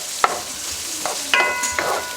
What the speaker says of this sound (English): next you add your onions first, chopped up. Mix those onions in.